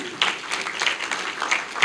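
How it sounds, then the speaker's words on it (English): Audience applause at the launch of the Neneh Mawdo Charity Foundation, a steady patter of clapping from a crowd in a room for about two seconds, with a few sharper claps standing out near the end. "So please give them a round of applause also."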